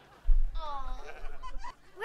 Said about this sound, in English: Why do you have two sheep in your room?